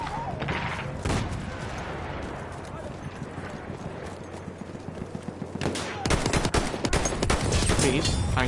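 Rapid machine gun bursts in a war shooter video game, a long rattling stretch followed by a louder, denser volley near the end, with someone talking over the firing.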